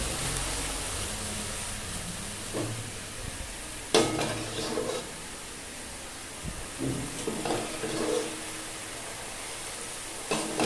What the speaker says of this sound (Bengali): দুধ দিয়ে দেবো আর এই খুন্তি দিয়ে একটু নেড়েছে।